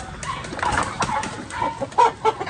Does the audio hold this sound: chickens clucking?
yes